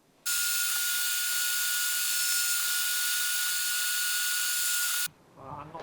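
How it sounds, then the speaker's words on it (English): A small high-pitched drill with a very small bit whines steadily and loudly for about five seconds while drilling a prototype guitar part, then stops abruptly, followed by a brief voice. "I drill it using a very small drill bit"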